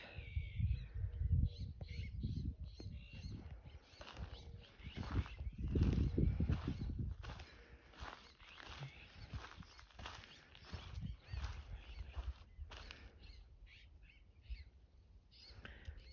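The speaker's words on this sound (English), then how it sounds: "Just listen to all the bird life" Birds squawk and call outdoors, overlapping cries over a low rumble of wind, fairly distant and continuing steadily throughout.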